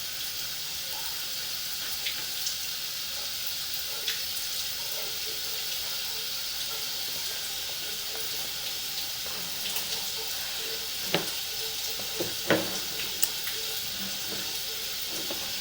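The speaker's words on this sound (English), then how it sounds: "We'll run a little bit of cold water." Cold water runs steadily into an old clay pipe in a house, a soft continuous hiss with a few faint knocks and clicks and no talking.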